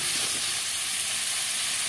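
Sliced papaya stirred in a hot pan with salt, giving a steady, close sizzling hiss with soft scraping underneath.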